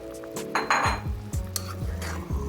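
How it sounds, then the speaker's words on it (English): A utensil beats eggs and stirs them into a pot of Korean chicken ramen soup, with quick, close clinks and scrapes against the metal pot in a loose rhythm over a faint, steady simmer. "So I beat my eggs and just mix them into the soup."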